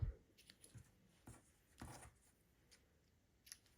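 Ribbon scissors snipping the end off a length of ribbon during a papercraft stamping project, giving a few faint, close, brief cuts and rustles with quiet gaps between them.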